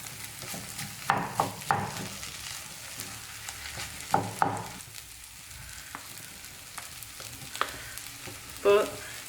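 Tapioca egg masala being stirred in a pan, with a steady background sizzle of frying broken by repeated scraping and clacking strokes of a spoon against the pan, close and moderately loud, with no talking.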